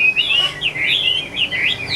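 A pet Mo nga bird singing, bright rapid chirping phrases repeated in quick bursts, close and clear over a quiet background.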